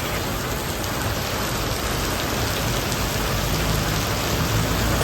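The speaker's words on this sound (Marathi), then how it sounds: "एवढा पाऊस चालू झाला जोरात" Heavy rain pours down in a dense, steady roar that stays loud and unbroken from start to finish.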